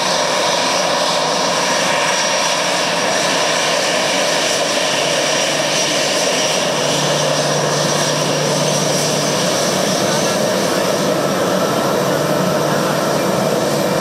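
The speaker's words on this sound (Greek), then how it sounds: "το αεροσκάφος κατά την είσοδό του στο χώρο στάθμευσης πέρασε κάτω από την καθιερωμένη σε ανάλογες περιπτώσεις αψίδα νερού" A Volotea airliner taxis into its parking stand at Kalamata airport, passing under a water arch, its engines droning loudly and continuously throughout.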